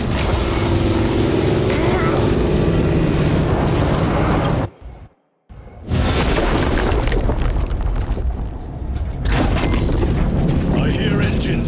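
Heavy engines rumble loudly in the Space Marine 2 video game, a dense continuous roar with booming blasts that cuts out briefly and returns, with voices speaking over it.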